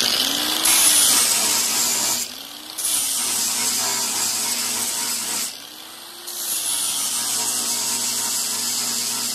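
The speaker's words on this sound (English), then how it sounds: "I'm gonna clean that up with the grinder" Angle grinder cleaning up a bolt hole in a fender flange, running as a steady high whine with two brief dips in load, close up and loud with no talk.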